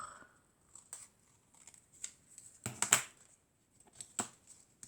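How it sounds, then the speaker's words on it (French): Scissors snip the edge of paper for a tiny shabby-style mini book, giving a series of short, sharp, close cuts in irregular bursts separated by quiet pauses. "Donc je vais déjà couper un peu le bord."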